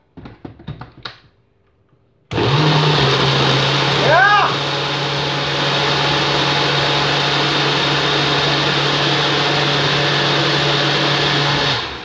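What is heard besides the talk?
blender running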